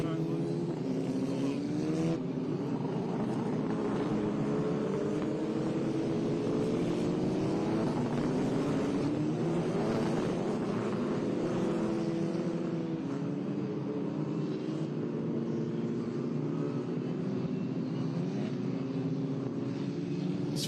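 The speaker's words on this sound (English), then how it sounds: "Formation lap now officially underway." Open-wheel Formula Regional Americas race cars run a formation lap behind a C8 Corvette pace car at NJMP, a steady layered engine drone with shifting pitches from several cars, with a commentator talking over it throughout.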